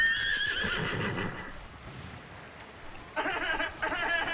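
A horse in a video game whinnies loudly, pauses briefly, then lets out a second shrill neigh, with faint hoof clops and soft background noise.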